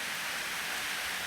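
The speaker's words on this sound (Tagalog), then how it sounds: "Malakas yung ulan" Heavy rain pours steadily and loudly on a house with an unusual remote-operated door, a dense, even hiss with no pauses and no voices.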